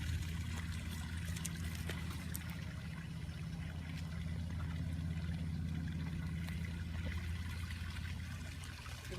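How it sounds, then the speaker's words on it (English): A small garden waterfall spills steadily into a pond, a constant close trickling wash that holds an even level throughout with no pauses. "a little waterfall that comes down here and flows over to the pond"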